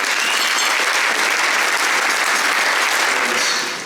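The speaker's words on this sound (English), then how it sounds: "I do want a round of applause both for the Delphi Economic Forum" Sustained applause from a gala audience at a Delphi Economic Forum event in Toronto, dense steady clapping filling the whole stretch at full volume before easing slightly at the end.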